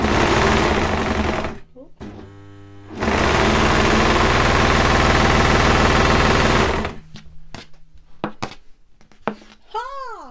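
A Brother 1034D serger (overlocker) runs in two loud, steady bursts of rapid stitching, a long stretch and a shorter one, then stops; someone talks and exclaims afterward.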